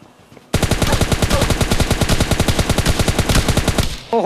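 An S12K in PUBG Lite fires a rapid, evenly spaced string of loud, close shots for several seconds after a quiet start, then stops abruptly.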